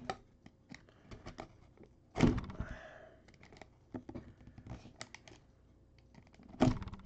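Cutting at the packing tape on a sealed football trading-card box: scattered small scratching and clicking taps, plus two louder sharp tearing scrapes near two and six and a half seconds, close up with no talk.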